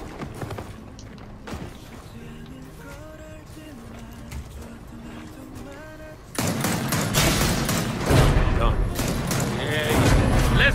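Gunfire in the video game Gears of War 4, a dense, loud run of rapid shots and blasts that erupts halfway through after a quieter stretch of game music and ambience.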